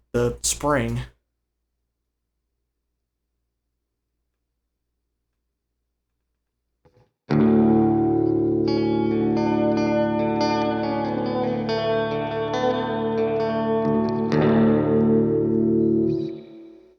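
A guitar played through a Boss reverb pedal in spring reverb mode, with the echo volume turned up, rings out in a sustained strummed chord with a twangy, shimmering tail after a brief burst of sound and a long silence.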